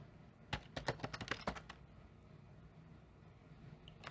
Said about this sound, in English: type in the password winter.